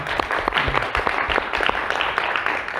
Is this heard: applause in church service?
yes